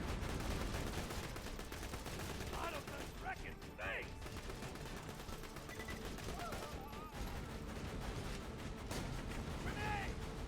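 Gunfire in the video game BorderQuest, steady volleys of shots and distant blasts forming a continuous battle din, with occasional game voice sounds over it.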